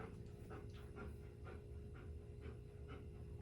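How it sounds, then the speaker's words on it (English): A dog pants quickly and steadily in short, rhythmic breaths, close but quiet. "I love my fucking dog, man."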